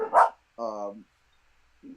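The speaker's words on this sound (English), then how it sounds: "Sorry, that's my dog." A pet dog barking indoors at home, close by: one sharp bark, then a drawn-out, whiny yelp, with a faint voice-like sound starting at the end.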